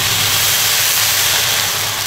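Cooking wine hits a hot wok while mapo tofu with chili powder is being made, setting off a loud, steady sizzling hiss that fills the moment without pause.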